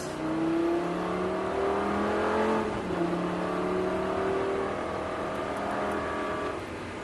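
A car accelerates at full throttle in third gear during a driving lesson, its engine climbing hard in a steady rising whine. A brief dip comes partway through before it builds again, loud and continuous without any talk.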